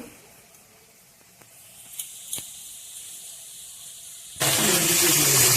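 Green beans with capsicum frying in a pan give a loud, steady broadband sizzle that bursts in near the end after a quieter stretch with a few faint clicks.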